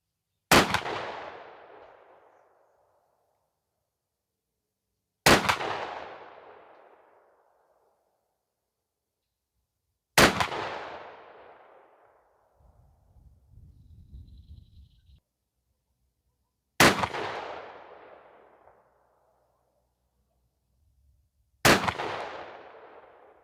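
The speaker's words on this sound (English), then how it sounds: "We'll shoot some groups, and we'll see what we can get from these through a rifle choke today." A Remington 870 12-gauge pump shotgun fires Brenneke 2-3/4" 1 oz slugs through a rifle choke. Five loud, sharp shots ring out about five seconds apart. Each one booms and rolls off in a decaying echo, with no voices.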